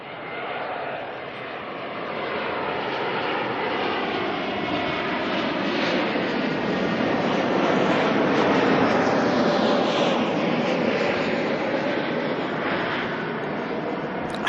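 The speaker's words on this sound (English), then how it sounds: "Next arrival coming in, NZAA142 from Brisbane, a 321 Neo." Airbus A321neo jet arriving from Brisbane, a steady broad engine roar that swells slightly and holds loud and close throughout, with no talking.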